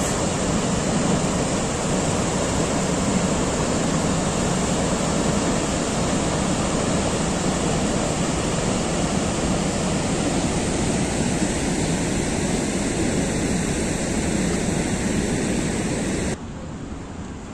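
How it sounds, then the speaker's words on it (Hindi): The Indus River surges through Taunsa Barrage as a continuous loud, broadband roar of rushing water, unbroken and steady from start to finish with no voices. "ये आप देख रहे हैं ये पानी का बहाव"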